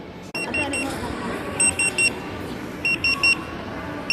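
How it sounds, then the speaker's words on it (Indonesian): A food court order pager in a mall in Makassar beeps in short repeated high-pitched bursts, two groups of chirps over a busy crowd murmur. "Ini teman-teman bunyi, artinya makanannya udah siap."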